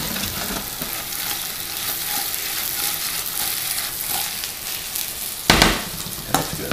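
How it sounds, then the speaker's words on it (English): Sugar caramelizes until brown in a hot pan on a stove, a loud steady sizzle and crackle close by, ending with a couple of sharp clanks of a utensil against the pan. "now it's starting to caramelize, which means the sugar is burning pretty much"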